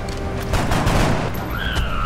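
Gunfire from a soldier in the XCOM: Enemy Within video game, a burst of sharp shots followed by a booming impact and ringing tonal game effects, loud and close, with no talking.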